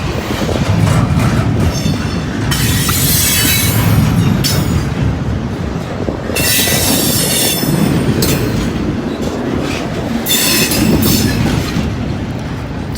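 A Conrail freight train rolls past close by, its heavy, continuous rumble and rattling cars broken by repeated bursts of high wheel squeal over about thirteen seconds.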